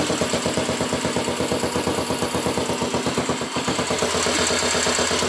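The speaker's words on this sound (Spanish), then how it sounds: "ahora estuve haciendo una regulación de válvulas a la moto. Vamos a prenderla. Para escucharla" A Skua 150 motorcycle engine, just after a valve adjustment, idles steadily nearby, its rapid, even chugging pulses continuing without a break.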